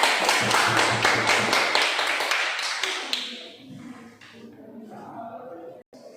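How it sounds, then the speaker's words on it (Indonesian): Schoolchildren clap their hands together in a classroom, a burst of loud rhythmic applause that fades out after about three seconds, followed by quiet murmuring voices. "Tepuk tangan semua."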